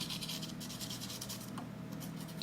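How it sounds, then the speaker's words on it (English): Rapid scratchy strokes of a colored pencil dragged back and forth on paper to texture grass, close and continuous with a dense rhythmic texture. "here I'm just dragging the pencil to create some random texture and detail in that grassy area"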